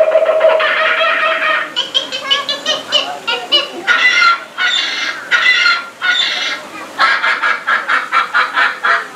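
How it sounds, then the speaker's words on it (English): Animatronic birds in the Enchanted Tiki Room show erupt in a loud, chattering frenzy of squawks and cackles, coming in repeated bursts for several seconds with no talk over them. "Suddenly, the treetops explode in a frenzy of outraged birds."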